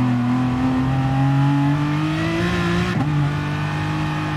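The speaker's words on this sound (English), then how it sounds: "Car noises." Racing car engines in the game GT Sport drone loudly and steadily, the tone climbing slowly as the car accelerates, then dipping briefly with a gear change near the end, with no speech.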